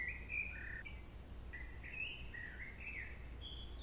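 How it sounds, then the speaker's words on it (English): Several birds chirp and whistle outdoors in the morning, scattered short tweets and trills at moderate distance over a quiet low background hum, with no voices. "I hear birds."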